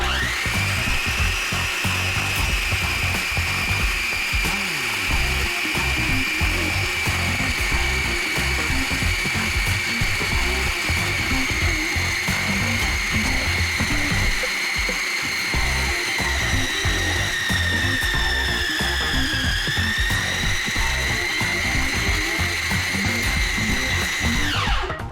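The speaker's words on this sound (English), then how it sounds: "if you're working with a food processor, this could get loud." A food processor churns gnocchi dough with a steady, loud motor whine that runs without a break for the whole stretch, its pitch dipping briefly near the end.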